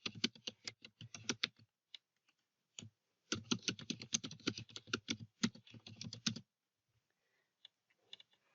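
Someone types a message on a computer keyboard, with quick clustered keystrokes in two bursts separated by a pause, then a few scattered taps, close and crisp against silence.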